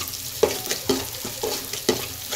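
Chopped onion frying and browning in a pan for a Maharashtrian val bean birda curry, with steady sizzle broken by about four sharp scraping stirs at even intervals, close and moderately loud, no voices.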